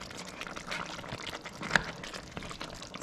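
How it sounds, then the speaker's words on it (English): Water is poured into a pot of stewing chicken and potato, a soft, continuous splashing pour at close range with a brief louder splash midway. "Let's add a little bit of water to start cooking, boiling the chicken and the potato."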